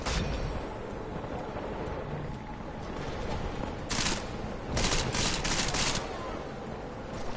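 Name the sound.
gunshots in Deus Ex video game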